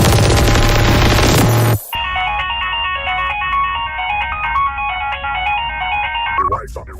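A mobile phone ringtone plays loudly as a repeating electronic melody of bright beeping notes for several seconds. It follows a brief burst of loud, harsh noise and cuts off abruptly at the end.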